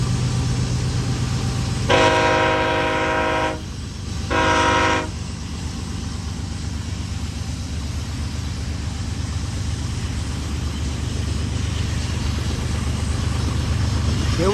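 Freight train with Dash 9 and GP60M-3 locomotives passing close by while getting up to speed, a steady heavy rumble throughout broken early by two loud horn blasts, one long and one shorter.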